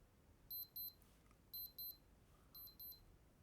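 Three bursts of high, thin electronic beeping from a Casio digital watch alarm, each a quick pair of double beeps, separated by short quiet pauses.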